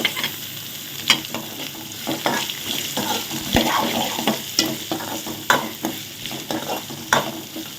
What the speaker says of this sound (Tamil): அந்த உளுந்தெல்லாம் எண்ணெயில் பொரிஞ்சு வரும்போது வாசனை சூப்பராக இருக்கும்.